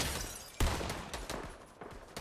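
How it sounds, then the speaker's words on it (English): Enemy gunfire in an online multiplayer shooter game, a scatter of shots with one sharp loud crack near the start followed by lighter, more distant pops spread through the moment. "They still shooting at me up there"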